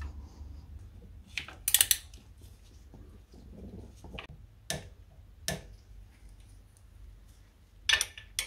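Torque wrench turned while tensioning a belt until it clicks, with a handful of short, sharp ratcheting ticks and clicks spaced irregularly over a quiet background.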